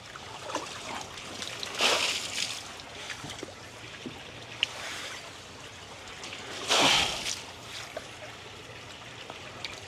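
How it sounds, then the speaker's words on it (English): Water splashing and pouring out in two distinct bursts, a short one early and a longer gush later, over a quiet background with faint trickling. "Empty out some water."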